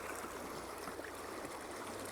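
A stream's roaring water in central western Alberta: a continuous broadband rush, steady and fairly near, with no voices over it.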